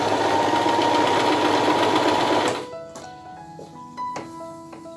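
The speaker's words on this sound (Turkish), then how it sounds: "Bu da üçüncü programdaki dikiş. Düz dikiş." A Singer Promise 1408 sewing machine runs a straight stitch at a steady, loud mechanical whir for about two and a half seconds, then stops, leaving quieter clicks and light handling noises.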